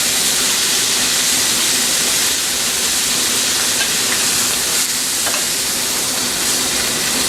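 Chicken pieces sear in a hot pan in a culinary school kitchen while being flipped and browned for a fricassee, a loud, steady sizzle and hiss that fills the whole clip without a break.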